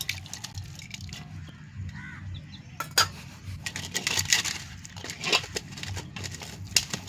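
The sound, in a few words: water added to masala being mixed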